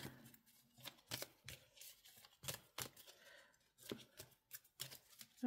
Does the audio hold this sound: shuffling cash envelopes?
yes